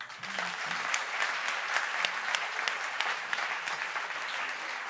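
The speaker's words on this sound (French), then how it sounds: "Vous pouvez les applaudir?" An audience at a communications awards ceremony applauds award winners, a steady wash of many hands clapping that holds evenly throughout at moderate distance.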